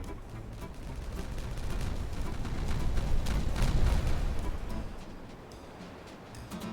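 Detonation blasts set off in the beaver colony-building game Timberborn, a dense rumbling barrage of booms that swells toward the middle and then fades, loud and continuous with no talk over it.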